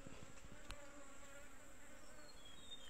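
Wild honey bees buzz steadily inside a forest, a dense, close swarm hum that continues for the whole stretch with no voices.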